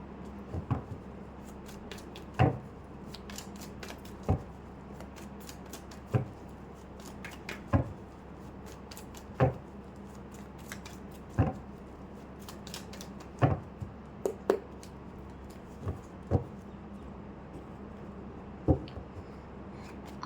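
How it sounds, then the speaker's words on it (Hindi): Tarot cards being shuffled by hand, with a series of soft, crisp riffles and taps repeating every second or two, close and fairly quiet. "तब तक मैं कार्ड शफल कर लेती हूँ।"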